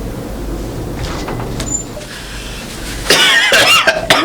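A person with a long-standing illness coughs several times, rough and throaty bursts over a low background hum, the loudest hacking coming near the end, fairly close and without talk.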